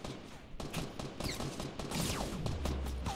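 Video game gunfire aimed at the player, a dense burst of rapid shots and cracks filling the short stretch, loud and continuous with no clear pauses.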